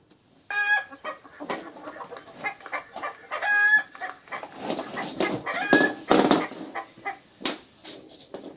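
A hen clucks repeatedly in short, irregular bursts, close and clear, with a few sharper squawks mixed in.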